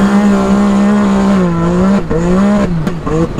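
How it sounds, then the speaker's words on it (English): Video game car cornering on the handbrake, a steady engine drone with a sustained, high tire squeal that bends in pitch through the turn, loud and close, ending in a few short scuffs. "That handbrake's really nice for getting into turns."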